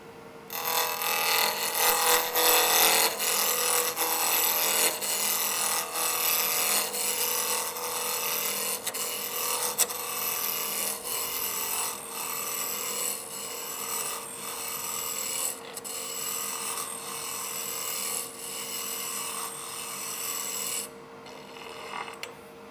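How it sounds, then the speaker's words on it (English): A 1 1/4 inch roughing gouge cuts a wooden duck call blank on a lathe, a continuous loud rasping scrape that runs steadily throughout before easing off at the very end. "I'm going to use a 1 1/4 inch roughing gouge."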